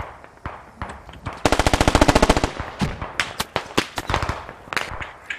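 Rapid automatic gunfire in a bout of Squad, a dense burst of evenly spaced shots mid-clip framed by scattered single cracks and further volleys, loud and close with no talk.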